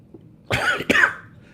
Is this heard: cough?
yes